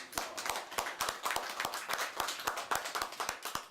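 Audience clapping at a Kwanzaa celebration, a steady run of sharp, close hand claps repeating in a fairly regular rhythm from a small group, moderately loud throughout.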